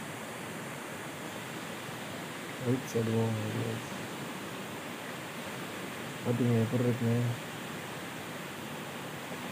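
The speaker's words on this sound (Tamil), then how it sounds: "இங்கே பாருங்கள் எவ்வளோ தண்ணி வருதுங்க." Clean water streams steadily through a village, a constant broadband rushing that fills the whole clip while someone speaks briefly twice over it.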